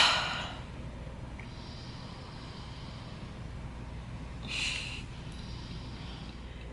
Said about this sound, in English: We got multiple people snoring in this lobby